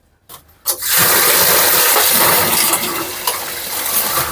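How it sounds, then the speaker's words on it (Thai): Strong running water gushes steadily into and over plastic food-scrap containers being rinsed clean, loud and close, after a brief clatter at the start. "นำกล่องเศษอาหารพวกนี้นะครับมาล้างให้สะอาดนะ"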